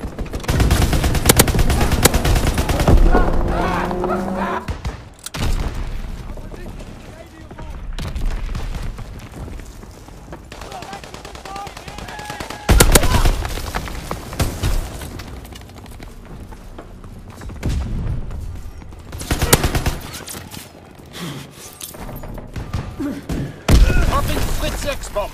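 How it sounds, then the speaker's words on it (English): Fighter-plane strafing fire in a Call of Duty WW2 match: bursts of rapid gunfire and heavy booms come in several loud waves across the clip, with quieter game ambience between them. "strafing the target."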